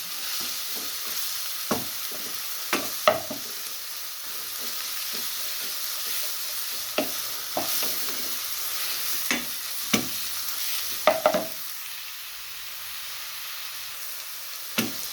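Turnip halwa roasts softly in a pan with a steady quiet sizzle, while a spoon scrapes and stirs in irregular knocks and taps, some sharper than others; no talking.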